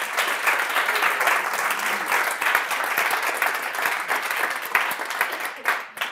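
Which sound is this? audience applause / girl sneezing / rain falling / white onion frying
audience applause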